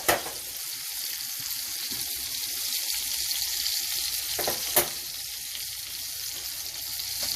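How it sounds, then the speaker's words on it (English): Corn cooks in melted butter in a pan, giving a steady bright sizzle and crackle heard up close, with a couple of sharper pops or utensil taps, and no voices. "I'm going to cook on my corn. Corn's going."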